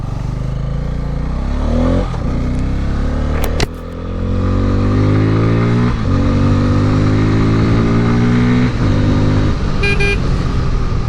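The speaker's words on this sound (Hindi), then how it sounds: "तो थ्रॉटल रिस्पॉन्स एंड एक्सीलरेशन वगैरह तो काफ़ी सही है" A motorcycle engine revs up through several rising gear pulls, loud and close, with a brief pause between shifts and a short horn-like toot near the end.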